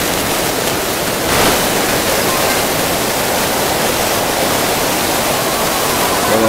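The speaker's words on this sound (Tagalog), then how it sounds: "naglalaki ang mga alon." Big surf waves crash and roll continuously along the shore at La Union, a loud, steady wash of white water close by with a brief surge early on.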